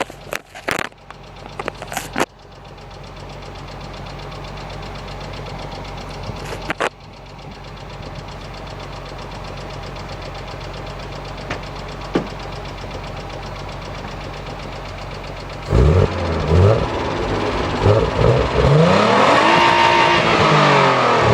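A Nissan 300ZX engine idles loudly after a few sharp clanks, then revs up hard near the end, bouncing rapidly against its rev limiter in a stuttering, wavering roar.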